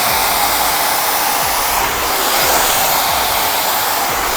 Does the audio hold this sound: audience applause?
no